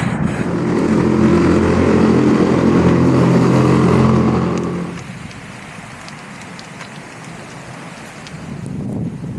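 Strong wind buffets loudly for about five seconds, then drops to a quieter rushing gust that swells again near the end.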